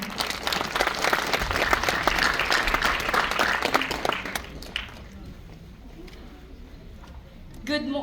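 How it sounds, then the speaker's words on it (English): Audience at a Grade 6 graduation ceremony gives a welcoming round of applause for a student speaker, a dense, loud burst of many clapping hands that fades out after about four seconds, leaving quiet room noise and faint voices. "Let's give her a welcoming applause, everyone"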